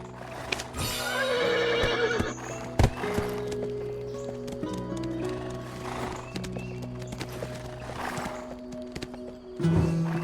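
Black Desert game horse neighs loudly near the start, over steady clip-clop of hooves and a low ambient hum, with a second short whinny near the end.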